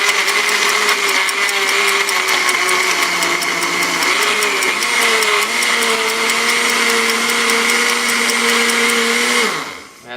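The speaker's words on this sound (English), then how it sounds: "And then we're going to go ahead and blend again." A blender runs steadily on strawberries added to pineapple juice for a homemade V-8 smoothie, a loud continuous whirring hum with a brief dip in pitch midway, then spinning down and stopping near the end.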